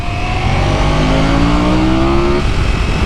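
A race car with traction control switched off accelerates hard on a track, its engine note climbing steadily and loudly through the revs, close and uninterrupted.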